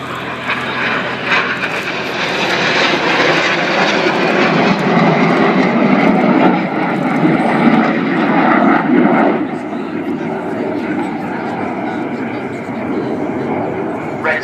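Red Arrows jets fly an aerobatic airshow display at RAF Cosford, with pairs flying inverted in close formation as others corkscrew around them. A loud, continuous jet engine roar fills the whole stretch while a voice talks underneath.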